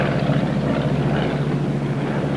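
A McDonnell Douglas A-20 propeller airplane in flight gives a steady, droning engine and propeller hum, continuous and moderately loud, with no voices over it.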